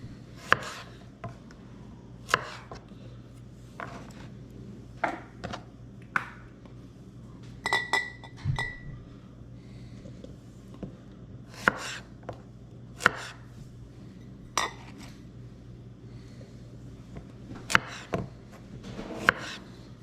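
Home-grown cucumbers packed by hand into glass quart canning jars for dill pickles: scattered knocks, clinks and glassy taps at irregular intervals over quiet room tone, close and moderately faint, no speech.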